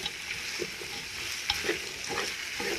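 Seafood okra soup with snail sizzles in a pot as it is stirred, a constant frying hiss with scraping stir strokes on top, close and moderately loud, no voices.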